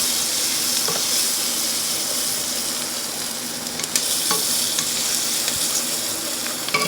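Chopped onions sauté in a pan for Mexican rice, giving off a steady hissing sizzle close by with scattered pops and occasional stirring scrapes, with no voices.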